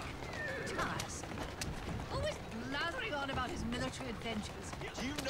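A mare whinnies in Assassin's Creed Syndicate while pulling a carriage, a shrill rising-and-falling neigh mixed with hoof clip-clops and busy game ambience, with talk running over it.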